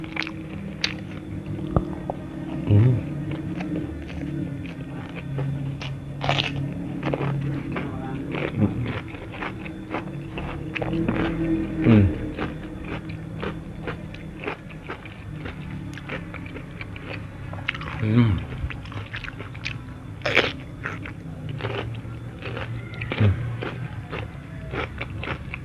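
Close-up crunching and chewing of jengkol balado eaten with crackers, alongside salted fish and raw cucumber, with repeated crisp bites and wet mastication throughout at a steady pace.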